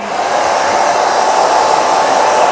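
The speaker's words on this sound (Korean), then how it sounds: "막 말리되 방향은 이 반 갈라서 네. 앞쪽으로 말린다." A hair dryer blow-drying a short bob, a loud steady whoosh of air held close and continuous for the whole stretch, with no talking over it.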